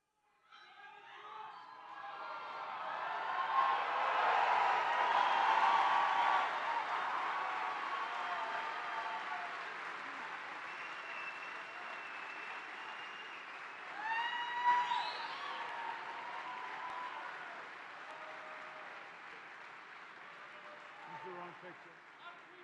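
A large crowd at a Donald Trump rally in Juneau, Wisconsin cheers and applauds, roaring up to a loud peak then holding a sustained, fading wash with shouts, heard at a distance as playback.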